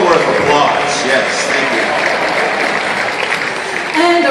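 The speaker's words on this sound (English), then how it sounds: "That's well worth applause." Audience applause breaks out at a MacGyver fan convention panel in Calgary, a loud, dense burst of clapping that holds steady for several seconds, with voices faintly mixed in.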